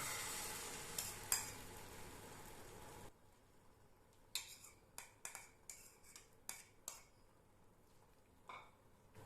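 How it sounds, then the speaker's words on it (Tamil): Mushroom and egg omelette mixture is poured into an oiled pan, giving a loud hissing sizzle for about three seconds, then a much quieter pan broken by a string of light scraping clicks. "இப்போ நம்ம கலக்கி வச்ச மஷ்ரூம் முட்டை கலவையை இதில் ஊற்றிக்கலாம்"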